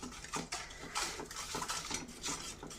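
A spoon works bhatura dough with curd and milk in a bowl, close wet scraping and soft clinking strokes in a quick irregular rhythm, with no voices.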